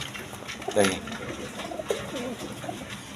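A breeding pair of domestic pigeons coos in low, throaty bursts, close by over a steady background hum, with murmured voices in the background.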